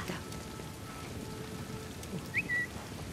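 Soft, steady rain hisses in The Last of Us Part II, a faint wash of falling water, broken only by a brief high whistle-like tone near the end.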